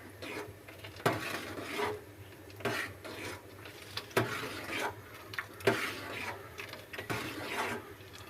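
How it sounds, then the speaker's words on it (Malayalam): A spoon stirs banana tharikanji, a rice porridge, in a pot, making repeated rasping scrapes against the pot in an irregular rhythm, close and fairly quiet, with no talking. "നന്നായിട്ട് ഇളക്കി കൊടുക്കുക."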